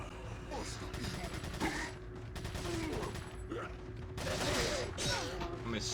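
Submachine gun fire in Resident Evil 4, with repeated bursts and shots over a dense game soundscape of crowd noise and other effects, which continue for several seconds.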